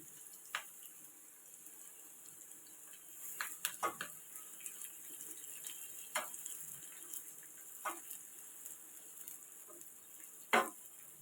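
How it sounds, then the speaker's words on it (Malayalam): Sliced onions sauté in oil with curry leaves for a traditional Kerala fish curry, giving a faint, steady sizzle with scattered soft clicks and scrapes from stirring. "നമ്മുടെ ഉള്ളിയൊക്കെ മുരിഞ്ഞൊന്ന് ഗോൾഡൻ കളറായുണ്ട്"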